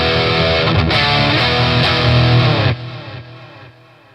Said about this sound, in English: One last setting for electric guitar on this, and that's the brown sound.